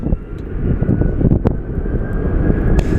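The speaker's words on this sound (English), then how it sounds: "we'll be back to our Southwest mid takeoff roll" A Southwest airliner on its takeoff roll at Phoenix Sky Harbor airport gives off a loud, steady, close-up roar of jet engine noise with a faint high whine that lasts the whole stretch.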